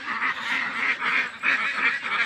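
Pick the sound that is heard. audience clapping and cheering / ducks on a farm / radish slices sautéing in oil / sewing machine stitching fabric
ducks on a farm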